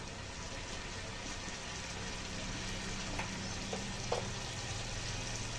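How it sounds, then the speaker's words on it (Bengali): Ginger, cumin and turmeric sizzle and fry steadily in oil in a pan, a continuous close crackling hiss with a few small pops toward the end. "এখন সব মশলা আমি খুব সুন্দর করে কষাতে থাকবো যতক্ষণ না মশলা থেকে আবার তেল ছাড়ে সুন্দর করে।"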